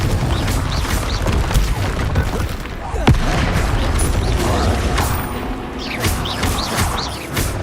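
Dense Hogwarts Legacy combat with booming, crashing spell blasts from the Confringo explosion spell and other spells, with one sharp impact near the middle and a steady barrage of bursts throughout.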